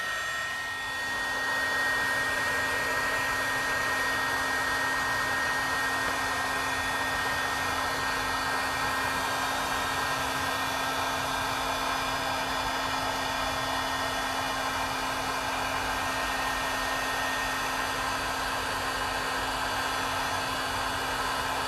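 A heat tool blows a steady, loud, continuous whir with a fixed tonal hum while melting embossing powder on a stamped card, with no talking.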